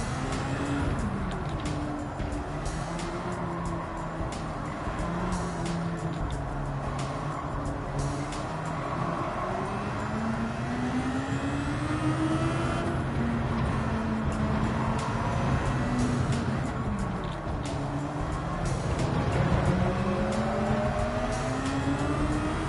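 Race car engine from Gran Turismo 7 droning steadily through a full stretch of a lap, with rising and falling pitch sweeps as the car accelerates and shifts, plus other cars' engines blending in the background.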